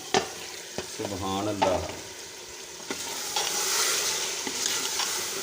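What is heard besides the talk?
lentils (dal) added to a pot of sizzling masala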